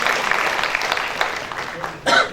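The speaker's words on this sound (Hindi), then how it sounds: "जोरदार ताली बजा करके भाई इनका स्वागत करिए" An audience at a political rally in India applauds, giving dense, crackling clapping that runs steadily, thins slightly, then swells in a brief louder burst near the end, with a voice heard over it.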